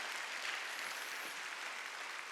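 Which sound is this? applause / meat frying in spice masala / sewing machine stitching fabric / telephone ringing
applause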